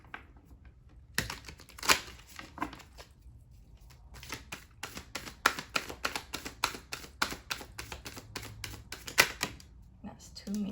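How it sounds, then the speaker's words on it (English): Tarot cards are drawn and shuffled in a quiet room, a rapid run of crisp snapping and riffling flicks in close succession, with lighter handling noises before and after and a voice speaking in between. "So I'm going to get some more cards now."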